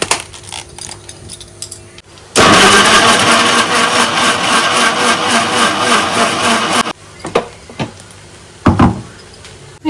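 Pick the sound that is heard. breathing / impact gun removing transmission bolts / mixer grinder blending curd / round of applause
mixer grinder blending curd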